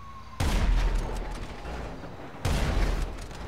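Two loud bursts of gunfire in GTA Online, each starting abruptly and trailing into a rumbling, crackling decay.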